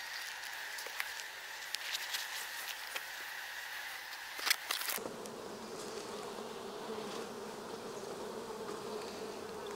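Honey bees crowd a dark old hive frame of honeycomb, filling the air with a continuous close buzzing that swells and shifts in tone partway through, with a few faint taps and no voices.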